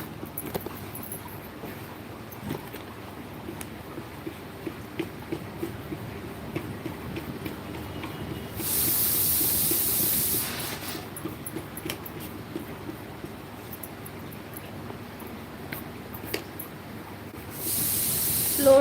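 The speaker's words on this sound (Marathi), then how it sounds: "कुकर बंद करून जा." A pressure cooker on a gas stove lets off steam in two loud, sustained hissing bursts, each lasting a few seconds, against a quiet room with faint ticking and clatter.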